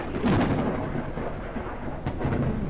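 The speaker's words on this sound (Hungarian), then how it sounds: "Ugye elég hangos a vihar is." A thunderstorm in the video game Forever Skies, with a continuous dense roar of rain and low rumbling thunder, loud and steady throughout with no voices.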